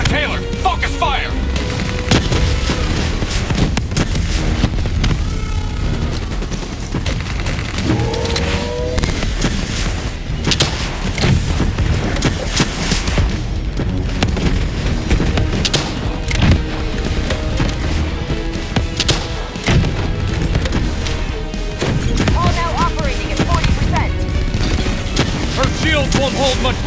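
Dense Call of Duty Black Ops 3 firefight against a Manticore, with continuous loud gunfire and booming explosions layered over a heavy game soundtrack, plus faint voice chatter.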